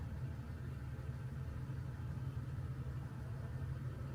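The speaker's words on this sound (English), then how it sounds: "Started up the truck." Toyota Tacoma truck engine idling just after start-up, a steady, faint, low mid-pitched hum with a constant even rhythm and no talking.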